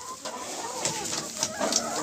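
Hens clucking softly while pecking at feed in a coop, a few short close clucks and faint calls over light scratching and rustling, no talk.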